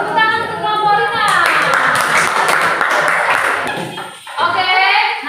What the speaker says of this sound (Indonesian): Tepuk tangan untuk kelompok Rina.